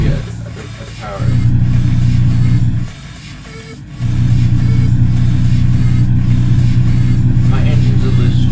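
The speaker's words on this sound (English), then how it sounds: "My engines are just struggling." A heavy truck engine strains and drones in a truck simulator video game, loud and steady with one brief dip where the engine drops off before the laboring drone resumes.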